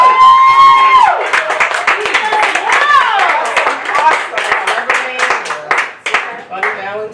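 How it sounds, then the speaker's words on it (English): An audience at an arts and healing event claps in a round of applause, the sharp individual hand claps mixing with a prominent voice that rises and glides over them, loud and near. "a warm round of applause"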